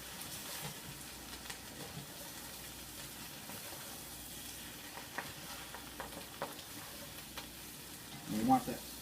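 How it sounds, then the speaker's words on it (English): Curry powder and shallots are stirred in a frying pan for a potato and kale curry. The sizzle is soft and steady, with faint spoon scrapes, and a louder clatter comes near the end. "Then we're going to stir that all in."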